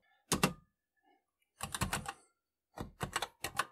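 Keys clatter on a redesigned TI-99/4A home computer keyboard in three quick bursts of rapid typing separated by brief pauses, close and crisp with no talking.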